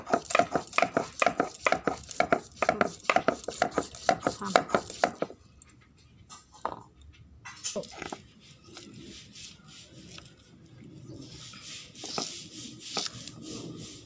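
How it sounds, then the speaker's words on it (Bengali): Soaked chana dal ground by hand on a sil-bata stone, with rapid rhythmic rolling and knocking strokes close up for about five seconds, then quieter scattered scrapes and taps. "ধুয়ে নিয়ে এবার এটা আমি ভালোভাবে সিলবাটায় বেটে নেব"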